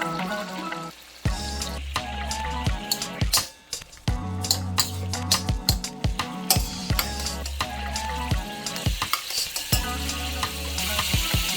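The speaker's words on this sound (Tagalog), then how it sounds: "I have here oil and then shrimp. We'll just do a quick frying of the shrimps" Shrimp frying in oil in a pan, a loud steady sizzle broken by repeated clattering stirs and scrapes across the whole stretch, close and busy, with no talking.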